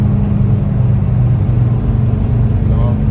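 Highway traffic on I-75 near Sarasota, Florida, passes on the opposite side as a loud, steady, low road rumble with no distinct individual passes.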